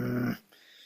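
A human voice imitates an angry growling breath, a short rough throaty rasp that cuts off abruptly into near silence.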